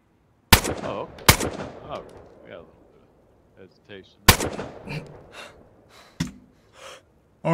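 Gunfire in the game DayZ: several loud, sharp shots, two in quick succession, then isolated ones further apart, with a breathy voice and short vocal sounds between them.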